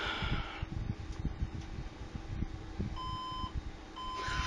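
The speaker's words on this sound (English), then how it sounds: "Beep of doom. I wonder what I got. 3 beeps." Computer motherboard error beeps at startup after a graphics card install, a few short, faint electronic tones sounding over a low fan hum and background noise, with no talking.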